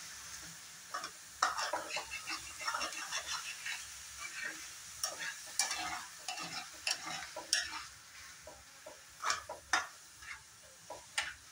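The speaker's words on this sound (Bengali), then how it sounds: "এইভাবে 2-1 মিনিট চিনির সাথে খুব সুন্দরভাবে মিলিয়ে নেব" Sugar and ghee are stirred in a wok for kalakand, a soft sizzle under repeated close scraping and clicking strokes of a spoon at an uneven rhythm.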